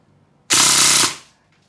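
Single airsoft shot from a custom CNC-built gun in black and gold, firing 0.32 g BBs at about 400 fps: one sharp, loud, close burst of air and mechanism lasting about half a second, ringing briefly away in an otherwise quiet setting.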